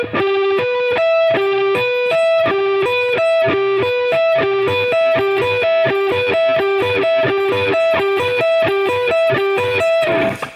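Fast, loud distorted electric guitar plays rapid repeating tapped and swept note patterns in a steady, machine-like rhythm with no voices.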